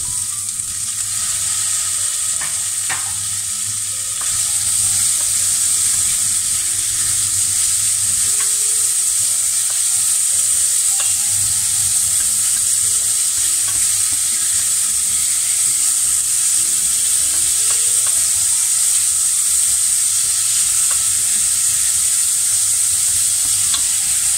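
Tomatoes and peppers sizzle loudly in a pan with leftovers from a pierrade, a steady hissing fry that continues throughout, broken by occasional clinks and scrapes of stirring.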